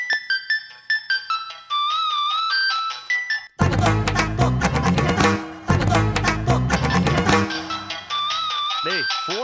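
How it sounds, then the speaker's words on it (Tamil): A mobile phone ringtone plays a bright, repeating electronic melody, breaks off for a loud dramatic music passage, then resumes near the end. "டேய், போன் அடிச்சுட்டே இருக்கல"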